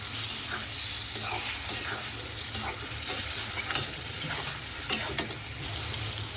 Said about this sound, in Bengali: পেঁয়াজের সাথে চিংড়ি মাছগুলোও ভেজে নিব।